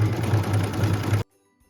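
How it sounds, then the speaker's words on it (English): An embroidery machine stitches the small hand and face of an angel ornament, a steady, fast mechanical whir with a strong low hum lasting just over a second before cutting off abruptly into silence. "And this is stitching just that little hand and face."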